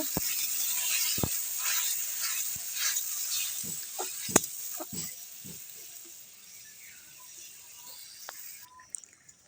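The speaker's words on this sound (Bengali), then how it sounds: "দেখো কত সুন্দর ঝোলটা ফুটছে" Egg-curry gravy simmering in a pot over a village clay stove, a soft bubbling hiss with scattered pops and small knocks, fairly quiet and close, fading slightly toward the end.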